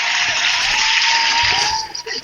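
Studio audience applause and cheering at an awards-style comedy show, a steady dense wash of clapping holding for about two seconds before tapering slightly at the end.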